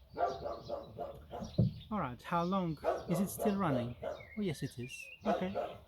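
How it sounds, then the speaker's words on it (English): A neighbour's dog barks in the countryside now and then behind a conversation, the yaps partly buried under close talking, with faint bird chirps mixed in. "Sorry for the dog barking."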